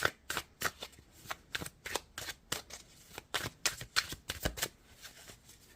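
Tarot cards shuffled by hand, a quick run of crisp papery riffles and flicks in uneven bursts, close and fairly quiet with no talk.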